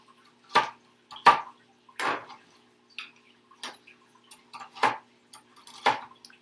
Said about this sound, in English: you're not going to be able to hear me over the chopping of the frozen things